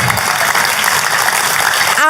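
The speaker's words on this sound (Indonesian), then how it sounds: "Kalau mau tepuk tangannya lebih meriah buat Yesus Tuhan kita" Church congregation applauding loudly and continuously, a dense close wash of clapping that fills the whole moment.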